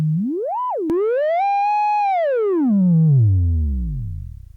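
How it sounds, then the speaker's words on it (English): A pure sine tone from a self-oscillating Eurorack voltage-controlled filter sweeps up, dips after a click, rises into a long steady pitch, then glides down into a low fading rumble. "it actually can send itself into an oscillation that can be used. So this is a sine wave."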